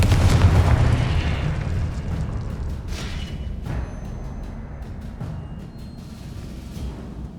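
Confringo spell explosion in the video game Hogwarts Legacy, a heavy low boom at the start rumbling off, followed by a few sharper bursts and pops as it fades.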